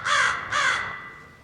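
Two harsh raven caws, close and loud, the second following about half a second after the first and trailing off, with no voices around them.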